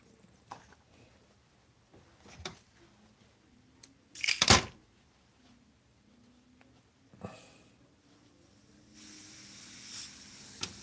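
An airbrush spraying Createx paint is test-fired in short soft hissing bursts, then settles into a steady, louder spray hiss near the end, with no talking.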